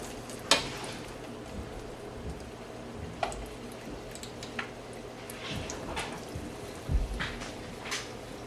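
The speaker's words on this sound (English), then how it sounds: "I'm going to start by putting them into the hot oil to deep fry" Plantains deep frying in hot oil, a faint, soft crackle of bubbling with scattered small pops and ticks spread irregularly across the whole stretch, no voices.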